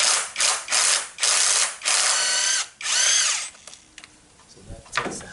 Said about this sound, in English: so you just take these bolts out